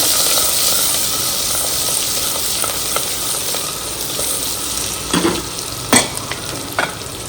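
Onions sizzling and frying steadily in hot oil with crackled whole spices, a close, continuous hiss with occasional stirring scrapes and louder clinks near the end.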